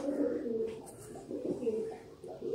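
A teddy pigeon coos softly in a few low, throaty rolling phrases, close by and alone, with faint background noise.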